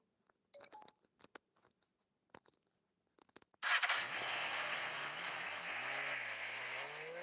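A phone emitting a few quiet scattered tones and clicks on a soldering bench, followed by a loud sustained electronic tone with a sliding pitch that continues to the end.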